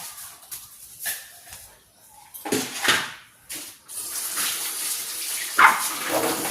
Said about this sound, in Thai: เดี๋ยวก็เอาน้ำซาวเข้ามาใส่